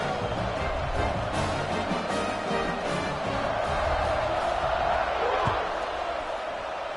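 A football stadium crowd roars and cheers at kickoff, a dense sustained wall of noise with scattered whoops, heard under a commentator's voice.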